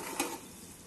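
A spoon scrapes and stirs cracked wheat lapsi with cinnamon and cloves in a pan over a low flame, in one brief soft stroke with a faint sizzle.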